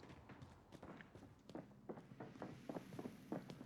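Footsteps on stairs in Call of Duty: Warzone, a quick series of soft, close thuds and scuffs climbing in a steady rhythm, fairly faint, with no talking.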